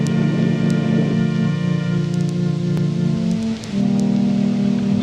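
Rain falls steadily near an awning, an even hiss of drops with a low droning tone running underneath the whole time.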